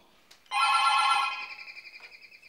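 A telephone rings in one loud, shrill electronic burst that holds for about a second, then trails off into softer, fluttering pulses in a quiet room.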